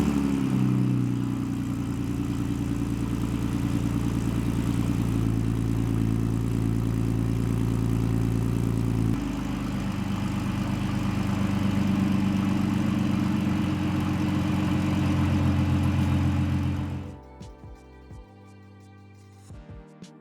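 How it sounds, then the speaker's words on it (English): A BMW E46 racecar engine idles steadily and loudly from up close while warming up, with a slight shift in tone midway. It then cuts off abruptly, leaving faint knocks and near silence. "let's get the car started, warmed up, and let's go take it for a drive."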